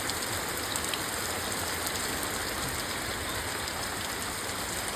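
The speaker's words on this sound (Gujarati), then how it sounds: "પડે હે ને ધોધ માર વરસાદ" Dense, steady heavy rain pours down on a village in Botad in a continuous hiss, unbroken and loud, with no voices.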